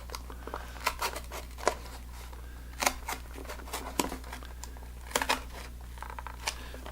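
Paper or card being cut with scissors while making a solar whirligig, producing scattered soft snips and crinkles in short irregular bursts over a steady low hum, close and quiet.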